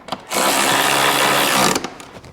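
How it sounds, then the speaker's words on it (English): Power wrench driving transmission mount bolts on a BMW with an N54 engine, a single loud, close, continuous burst lasting about a second and a half with faint mechanical clicks around it. "And we'll tighten the top ones with our wrench."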